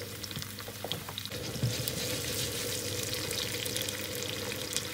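Sliced potatoes frying in oil in a pan, giving a steady, dense sizzle that runs continuously at close range with faint crackles and no talking.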